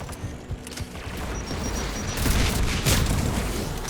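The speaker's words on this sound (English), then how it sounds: "AA guns ahead." Anti-aircraft gunfire in the video game Mass Effect 3 fills the whole stretch with a dense, continuous rumble of booming volleys. It grows louder toward the middle and stays heavy to the end.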